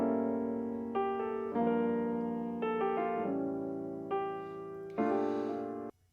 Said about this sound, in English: So it's a nice piano sample,